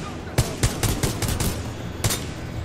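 Gunfire from a single-shot gun in Titanfall 2, roughly eight sharp reports spaced unevenly over a couple of seconds, loud and close above a constant background of game noise.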